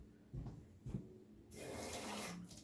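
After a couple of soft knocks, a kitchen tap starts running steadily, a close hissing stream of water drawn while making pie dough for Thanksgiving.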